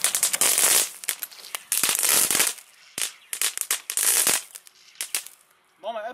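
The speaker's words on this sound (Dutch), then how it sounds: "Ja, dat is vuurwerk." Fireworks and firecrackers go off outdoors in rapid, loud bursts of crackling bangs, clustered volleys separated by short pauses, with a brief whistling sound near the end.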